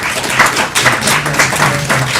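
An audience at a school board meeting gives a sustained round of applause, dense steady clapping filling the room at close range.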